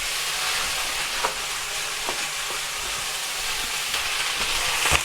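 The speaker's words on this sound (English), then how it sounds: "In go the sugar snap peas." Sugar snap peas fry in a hot pan, giving a loud, continuous sizzling hiss with occasional sharper spits and crackles, up close and unbroken.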